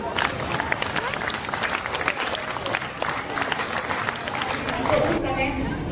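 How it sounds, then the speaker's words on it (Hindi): An audience at a Ramlila performance claps in a lively, uneven patter under crowd chatter and voices, moderately close, fading sharply just before the end. "आप लोग तालियां बजाइए"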